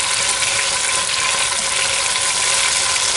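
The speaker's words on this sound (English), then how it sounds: "we're just browning the meat on, and we'll do the same on this side" Beef for stroganoff sizzles steadily in a hot pan as it browns, a loud, unbroken frying hiss with no talking.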